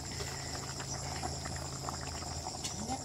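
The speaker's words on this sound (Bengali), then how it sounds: "পানি ফুটতে শুরু হয়েছে" Water bubbling at a steady boil in a cooking pan, with cumin seeds added, for a thin bata fish and bottle gourd curry; a continuous close hiss with fine crackling throughout and no talking.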